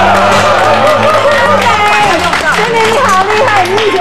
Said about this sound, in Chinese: 来来，掌声鼓励一下